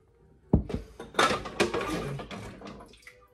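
Water splashes and pours into a pressure canner while jars for raw-pack chicken fajitas are being arranged, with a sharp knock at the start followed by uneven gurgling bursts close by.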